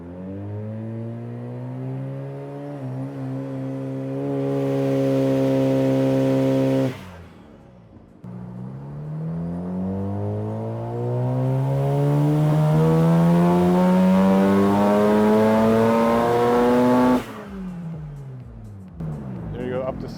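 A Mazda RX-7 FD rotary engine with a boost-up tune revs on a dyno pull at a Japanese rotary shop, climbing steadily to about 7,500 RPM in two long loud sweeps with a short lift-off between them.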